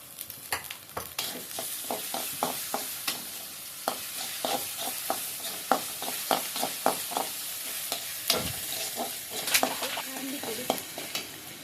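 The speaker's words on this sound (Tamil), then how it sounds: "பச்சை மிளகா 2 அது நல்லா வதக்கணும்." Green chillies sautéed for a chicken gravy, a spatula scraping and stirring in a steady rhythm against a sizzling pan, close and continuous with no voices.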